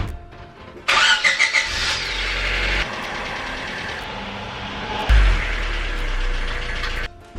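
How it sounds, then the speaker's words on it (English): A 1995 Honda Civic hatchback engine runs steadily as the car reverses, a continuous mid-low hum with a sharper surge near the start and another near the end, no talking. "I'm actually gonna reverse the car."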